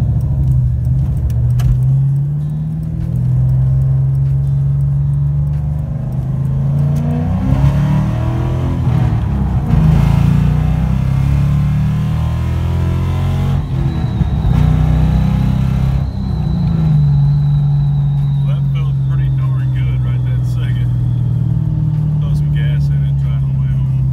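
A 1996 Ford Mustang Cobra engine rumbles and revs up as the car accelerates, the pitch rising and falling with gear changes, heard from inside amid road noise.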